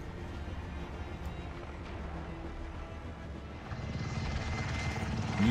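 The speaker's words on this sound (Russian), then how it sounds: "Йоу, сейчас обью вертолетом." Helicopter rotor thrum from a Call of Duty video game, a steady chopping drone that grows louder toward the end, heard alone.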